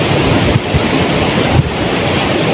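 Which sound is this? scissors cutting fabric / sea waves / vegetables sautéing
sea waves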